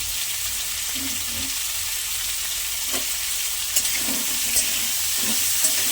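Potatoes cook in a pan with a steady, hissing sizzle and a few soft clicks and taps scattered over the hiss.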